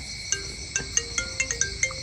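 A phone ringtone plays indoors as a series of bright, evenly spaced electronic tones, moderately loud and heard alone with no talking.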